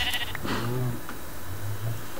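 Sheep bleating in the Minecraft video game, Java Edition, a short, wavering baa near the start followed by a second, lower bleat, both fairly close against a quiet background.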